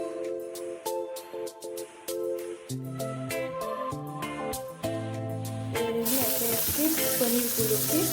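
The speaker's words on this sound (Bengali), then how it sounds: "সব পনিরগুলোকে আমি একদম হালকা একটু ফ্রাই করে তুলে নেব" Paneer pieces fry in butter in a kadai for butter paneer masala. A soft sizzle sits under background music at first, then swells into a steady, louder hiss toward the end.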